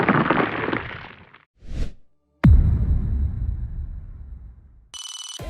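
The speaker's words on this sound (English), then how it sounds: "and reverse whooshes." A short reversed whoosh effect swells in and cuts off abruptly, followed by a loud impact-like burst that decays, then a brief ringing electronic tone at the end; no voices.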